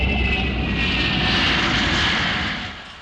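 A MiG-242 jet aircraft engine gives off a loud, continuous roar. It holds steady for a few seconds and then begins to fade toward the end, with no voices over it.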